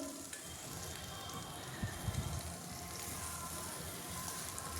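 Gooseberries for a no-onion, no-garlic pickle frying in a pan, giving a steady, even sizzle with brief clattering stirs partway through, close and fairly quiet, with no one talking.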